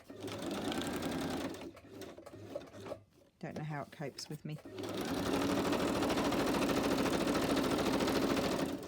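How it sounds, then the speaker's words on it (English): A sewing machine whirs rapidly in stitching bursts, pausing while someone talks briefly, then running again in a long steady stretch. "My poor sewing machine."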